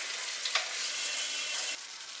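Spice paste sautéing and being stirred in a pan for chicken gravy, a steady close sizzle with a brief scrape of stirring partway, continuing alone without talk.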